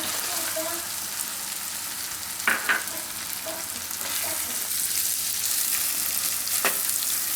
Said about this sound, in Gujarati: હવે આપણે એમાં ડુંગળી નાખી દેવું